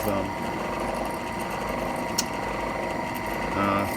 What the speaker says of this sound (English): have to drill very slowly to do what I'm doing here